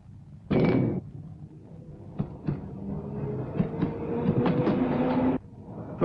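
Victoria line test train on rails during braking and acceleration trials at Acton, carrying ballast weights to simulate a rush-hour load: a steady rumble with rhythmic wheel clicks and a louder burst near the start, no voices.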